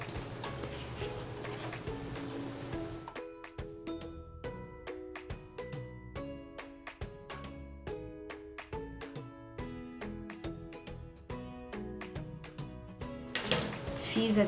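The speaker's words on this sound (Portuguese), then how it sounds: "a gente volta a máquina e vai fazer esse restinho de costura aqui" A sewing machine stitching fabric scraps for a patchwork pot holder, a steady rapid needle rhythm running for about ten seconds between quieter handling sounds.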